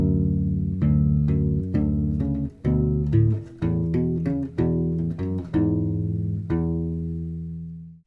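U-Bass, a small rubber-stringed ukulele bass, plays two measures of a main theme at a slowed pace, a string of close, warm plucked notes ending on a sustained, fading note with no talk.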